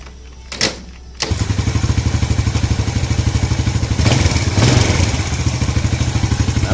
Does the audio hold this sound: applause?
no